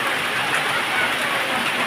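Heavy rain pours down steadily, a loud continuous hiss with no breaks.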